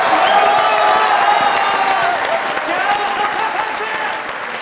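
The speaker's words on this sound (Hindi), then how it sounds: "दोनों ताली बजानी दोनों ताली बजानी." Studio audience applause on a comedy talk show, dense loud clapping filling the clip and tapering slightly toward the end, with voices mixed in.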